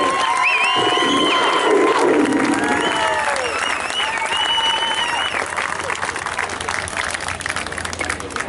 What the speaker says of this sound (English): A round of applause for Tom Yanetsko.